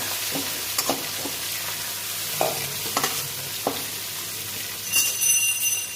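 Prawns frying in hot oil in a pan, a steady sizzle with scattered clinks and scrapes as they are stirred, close and moderately loud with no talking.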